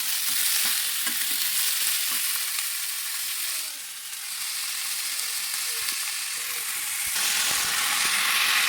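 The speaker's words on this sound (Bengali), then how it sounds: "এখানে আমি আলুটা একটু হালকা ভেজে নিচ্ছি" Chopped potatoes sizzle steadily in hot oil in a pan for aloo posto bhaja, with soft scraping as they are stirred, fairly loud and continuous with no voices.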